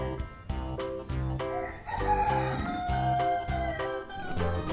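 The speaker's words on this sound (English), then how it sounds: "Oh, cool, we have another rooster." A rooster crows in a barn, with a drawn-out call standing out mid-clip over a rhythmic, music-like background and some nearby clucking.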